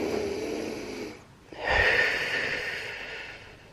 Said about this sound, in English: So I breathe in.